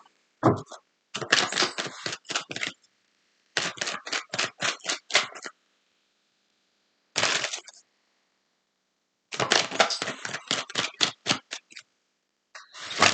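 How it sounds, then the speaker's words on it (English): A deck of tarot cards is riffle-shuffled in several quick bursts of crisp, rapid fluttering clicks, close up, with short silent pauses in between and no voices. "Shuffle, shuffle, shuffle."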